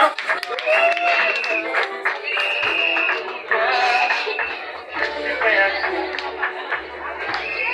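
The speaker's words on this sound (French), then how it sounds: "nous levons avec des acclamations et des cris de joie." Wedding guests cheer and shout for joy as the newlyweds leave, with scattered clapping and excited voices rising over one another throughout, close and loud.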